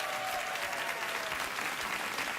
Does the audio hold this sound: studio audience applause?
yes